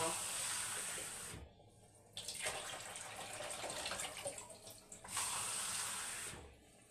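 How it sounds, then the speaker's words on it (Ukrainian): Hot water gushes from a tap into a bowl, running in three bursts with brief pauses between them, close and fairly quiet. "заливаю тут гарячою водою з крана. Спочатку з крана."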